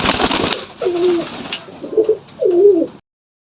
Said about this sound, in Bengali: এ দুটো লাল বর্ডার জালালি। জালালি কবুতর।